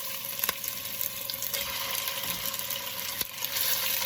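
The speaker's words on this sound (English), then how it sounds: "Now the skillet is hot, so yeah, it's gonna make some sizzling noises." Steady crackling sizzle of Italian sausage frying in a hot skillet, continuous and fairly close, with a few sharp clicks and no talking.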